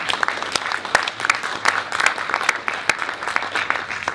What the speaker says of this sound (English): I think it's worth another round of applause, don't you?